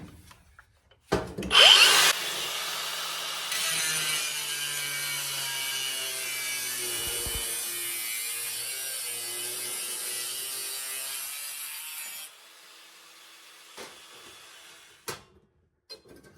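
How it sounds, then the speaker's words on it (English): A cutoff wheel cuts into the body metal of a 1972 VW Super Beetle during rear apron replacement. A sharp start is followed by about ten seconds of steady, loud grinding whine, then the tool spins down and some brief clatter follows. "We're going to do this a little bit here with the cutoff wheel."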